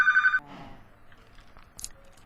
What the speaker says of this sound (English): That's a phone call.